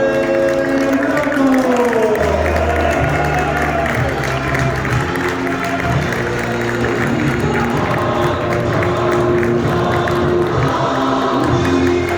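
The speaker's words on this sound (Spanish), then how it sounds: "Un fuerte aplauso para Rafael Blanco." A crowd applauds and cheers for the winner at a karting race awards ceremony. The clapping and crowd noise carry on for about twelve seconds, mixed with music and other background sound.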